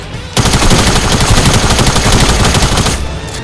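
Loud, sustained automatic gunfire from a weapon in a video game rattles on in one continuous rapid burst for about three seconds, then cuts off abruptly.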